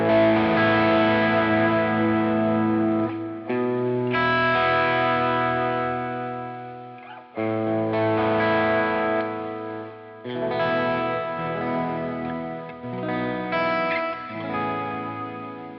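A PRS DGT SE electric guitar played through high-gain distortion rings out in thick, saturated chords and sustained notes, loud and close, with short gaps between phrases.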